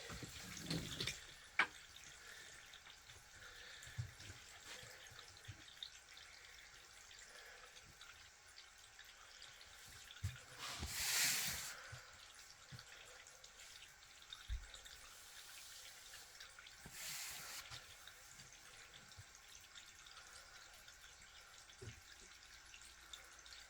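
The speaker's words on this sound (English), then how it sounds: "I've only got the tap on slow, don't want to overdo it" A tap left running slowly fills a container for a watering setup, a soft steady trickle with faint drips, and one brief louder splash midway.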